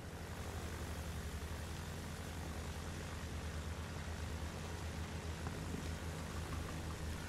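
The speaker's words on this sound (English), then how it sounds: "It's another enemy bomber, so we should be fine." An enemy bomber plane in Battlefield 1 flies overhead, giving a constant, faint, droning propeller-engine hum that holds steady and alone throughout.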